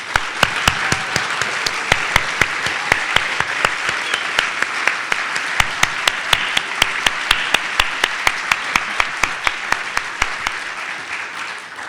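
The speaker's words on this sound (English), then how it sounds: "Can we have one more round of applause for our 3 awardees tonight?" A ceremony audience gives a sustained round of applause for three award winners at an entrepreneurship hall of fame event, dense clapping with a few sharp, louder claps standing out near the microphone.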